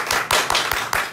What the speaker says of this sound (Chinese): 那现场的朋友们可以给我们一些掌声吗？